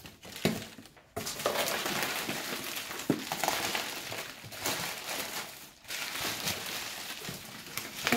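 Bubble wrap crinkles and crackles continuously as a parcel holding a teapot and milk jug is unpacked, with close, busy rustling and a few sharper pops.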